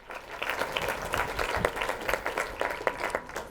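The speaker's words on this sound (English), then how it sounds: "So please give him a round of applause." Audience applause for a finalist at an industry event, a steady wash of many hands clapping at moderate level with scattered sharper individual claps, heard on its own.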